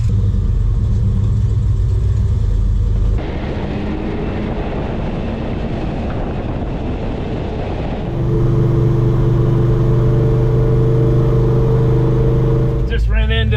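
A 1971 Chevelle big block beater car runs with a deep, steady engine rumble that shifts in level as it drives, and a person talks over the engine.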